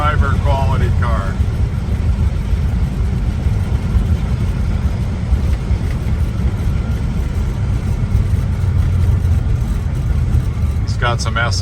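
A 1967 Chevrolet El Camino with coil-over front shocks cruising down the road, its engine a steady loud drone throughout with brief voices at the start and end.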